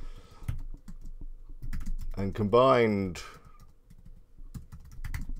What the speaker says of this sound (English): I'm good at typing, as you can see.